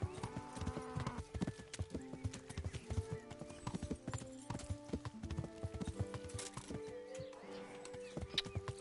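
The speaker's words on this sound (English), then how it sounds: "let's call my horse" A horse in the medieval video game Kingdom Come: Deliverance neighs and whinnies while its hooves clip-clop steadily in a rhythmic gait, fairly close, with faint birdsong behind and no talk.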